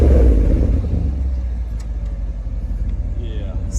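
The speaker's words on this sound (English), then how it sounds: "We're listening to exhaust." A 2014 Porsche Panamera Turbo S with a V8 sport exhaust rumbles loud and close, a deep steady idle-like burble that eases slightly after an initial surge, with voices talking over it.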